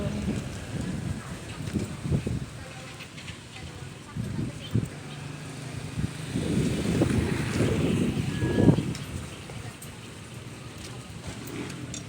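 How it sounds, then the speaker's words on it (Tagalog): Strong wind gusting steadily outdoors on a blustery, drizzly day, a continuous broadband roar with swelling gusts and some rumbling buffeting close to the microphone. "Sobrang hangin."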